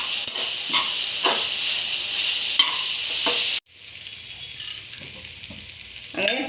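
Onions and green chillies sautéing in a pan with oil, a steady close sizzle and hiss with occasional stirring scrapes, briefly cutting off before a quieter, softer frying continues.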